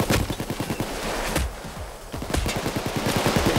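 Rapid automatic gunfire in the video game Payday 2 crackles in dense bursts, loud and close, with a short pause in the middle before the firing resumes.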